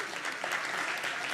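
An audience at a journalism anniversary symposium and lecture claps in steady, dense applause, a brief continuous burst heard from within the room.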